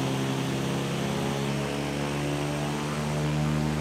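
Embraer EMB-314 Super Tucano turboprop in Flight Simulator X, a steady, loud propeller drone with a constant engine hum, unbroken and without voices.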